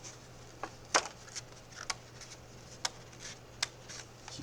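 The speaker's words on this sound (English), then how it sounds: "Use your scissors, and then you can cut out your window shape." Scissors snip through cardstock in a handful of short, sharp, separate cuts, faint and close over a quiet background hum.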